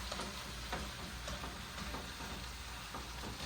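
Mushrooms fry in a pan for stroganoff, a steady close sizzle and crackle running through the whole stretch with no voices.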